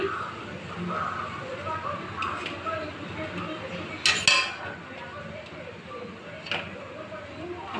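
A spoon scrapes and clinks against a pan while chana dal and cabbage are stirred, with soft metallic knocks and a brighter clank midway, under a person's talk.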